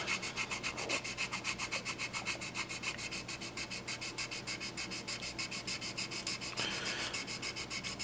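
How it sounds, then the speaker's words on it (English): A 240 grit sanding stick rubs back and forth across a primed scale model surface in steady, rapid close strokes, a continuous rhythmic scratchy rasp with no talking. "Ultimate Modeling Products 240 grit sanding stick, which I love and use all the time"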